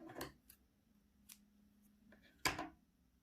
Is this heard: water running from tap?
no